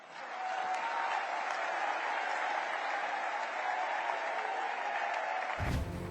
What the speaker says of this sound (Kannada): ಅವ್ರ ಈ ಹೇಳಿಕೆಗೆ ಭಾರಿ ಚಪ್ಪಾಳೆ ಕೂಡ ಬಿದ್ದಿದೆ